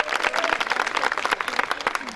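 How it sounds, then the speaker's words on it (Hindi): Audience at a Mahila Sangeet performance applauding loudly, a dense, steady wash of many hands clapping close by with a few sharper claps standing out, no voices over it. "एक बार जोरदार तालियां बजाइए।"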